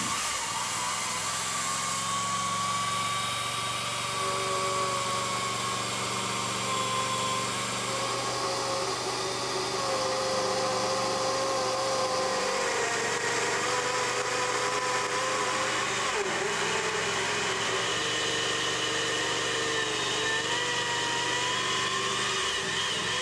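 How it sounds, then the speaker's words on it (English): PowerGrit utility saw chain cutting pipe held in a pipe clamp, a loud, steady motorized whine and grinding roar that runs continuously, with slight shifts in pitch as the chain works through the material. "I'll now go ahead and show you how to cut with the pipe clamp."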